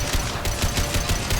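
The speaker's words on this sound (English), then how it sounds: "You guys want to shoot? You want to open fire maybe?" Rapid squad gunfire in the Mass Effect 2 video game, a dense run of quick, evenly spaced automatic shots, loud and close, with no talking.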